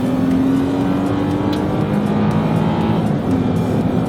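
A 2017 Toyota Tacoma truck with a tuned engine accelerates at full throttle onto a freeway, its loud, steady engine drone climbing in pitch continuously from inside the cab.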